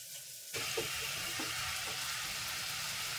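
Mushrooms dropped into hot butter in a pan for gravy, bursting into a sudden broadband sizzle after a moment of quiet, then a steady close frying hiss with faint pops.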